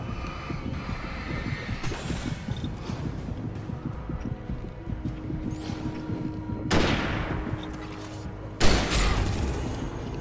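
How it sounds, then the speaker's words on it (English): Two sharp rifle shots ring out in the video game Alan Wake Remastered, each a loud broadband blast with a short tail, heard over a steady rumbling game ambience. "Two shots with the rifle."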